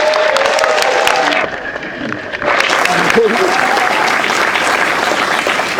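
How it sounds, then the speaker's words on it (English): An audience at an outdoor ceremony unveiling a section of the Berlin Wall claps loudly and steadily, the applause briefly thinning near the middle before swelling again, with some voices mixed into the crowd noise. "let's give him a big round of applause"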